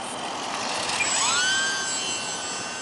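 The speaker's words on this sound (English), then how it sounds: "this is a relatively hard plane to crash unless you fly it into something" A small electric trainer model airplane flies overhead, its motor whine sweeping in pitch as it passes, steady and moderately loud against a faint background.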